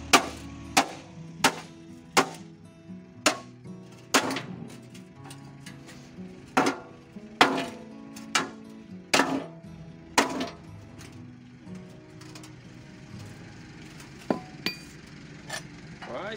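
Repeated metal hammer strikes on a cut metal drum while bending it into a portable wood-burning stove, sharp irregular blows in bursts with pauses, fairly close and loud against a quiet background.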